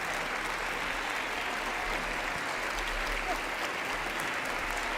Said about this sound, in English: 50 more years of clapping.